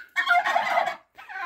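A Bourbon turkey gives a loud, close gobble, a rapid warbling burst lasting most of a second, followed by the start of another after a short pause.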